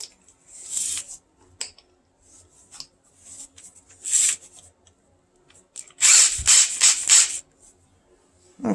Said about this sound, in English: chuck it up in the drill